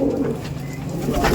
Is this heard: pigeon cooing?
yes